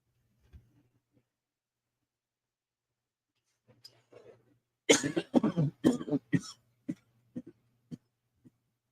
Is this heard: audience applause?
no